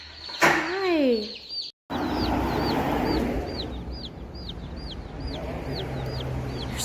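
Meat chickens in a brooder give rapid, repeated high chirps and clucks, close and steady, after a loud opening call; a voice is briefly heard at the start.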